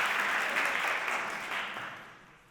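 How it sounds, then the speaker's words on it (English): A conference audience claps in a dense, steady round of applause that slowly fades toward the end. "A round of applause."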